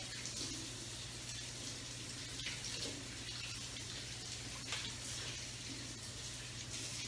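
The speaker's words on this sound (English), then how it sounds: "Also wash off that ruler that has any stuff on it" Tap water running into a sink while a ruler is rinsed off, a constant rushing stream with an underlying hum, fairly faint and unbroken.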